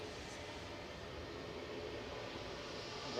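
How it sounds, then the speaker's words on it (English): A propeller airliner taxiing at Manchester Airport, a steady broadband engine drone heard at moderate distance, continuous and fairly even with a slight swell at the end. "We've got GP bot taxiing over. Noisy prop."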